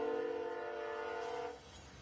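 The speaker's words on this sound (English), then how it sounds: "here it is heading southbound on the Toledo sub in the middle of the night" A freight train rolls southbound through the night on the Toledo subdivision, a loud steady horn-like drone with rumbling wheels that cuts off sharply near the end, leaving a lower rolling rumble.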